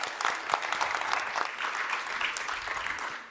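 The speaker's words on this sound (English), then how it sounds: "I would like a round of applause." Applause from a conference audience at the SME Assembly 2024, a steady crackle of many hands clapping, fairly soft and continuous for a few seconds.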